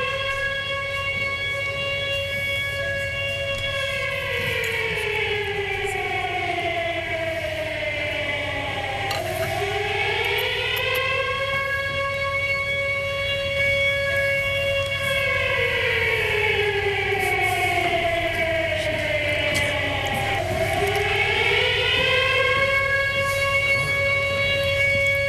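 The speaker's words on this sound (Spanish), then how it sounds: "Sigue atravesando la sirena, ¿viste?" Commemorative civil defense siren sounding at 9:53 for the AMIA bombing anniversary, a loud continuous wail that rises and falls in long slow sweeps, heard alone with no talk.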